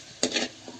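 Chicken mixed with salt is stirred in a pot over an open fire, giving a brief scraping swish followed by a softer second stroke.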